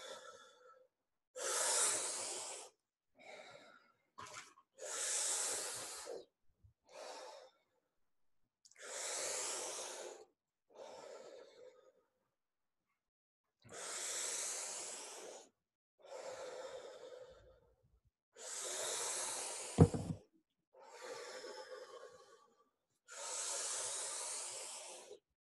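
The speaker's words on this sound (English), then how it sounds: "Just keep breathing." Deep breathing exhalations during a men's breathing exercise workshop, a series of long forceful breaths out, close and loud, separated by quiet gaps with one sharp knock partway through.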